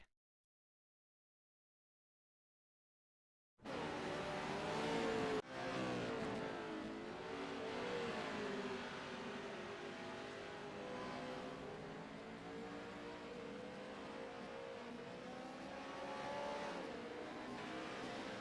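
Racing 358 modified cars in a Fairbury Speedway video game, with a steady, loud engine drone rising and falling as they circle the track. It starts after several seconds of silence, with no voices.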